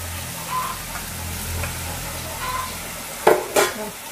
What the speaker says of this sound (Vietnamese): Bây giờ chúng ta sẽ cho cái phần chuối này mình đã chiên vào đây.